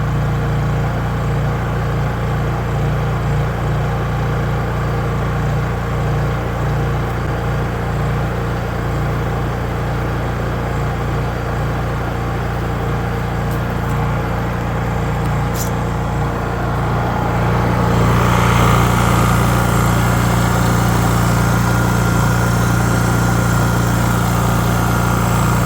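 A Honda EU3000is generator engine runs steadily just after a carburetor replacement, a loud continuous drone that rises in pitch and intensity near the end as the engine revs up.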